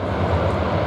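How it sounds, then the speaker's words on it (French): Airbus military transport plane with its propellers set to reverse pitch, moving backwards at an airshow, a steady, loud, broadband engine and propeller roar that holds without a break. "Et si on met les hélices sur reverse, eh bien, vous verrez, l'avion est capable de reculer."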